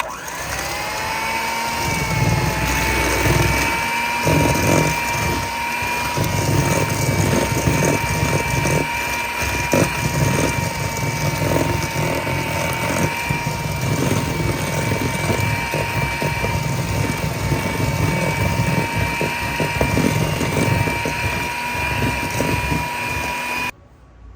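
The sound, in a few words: electric mixer beating butter and sugar for banana pie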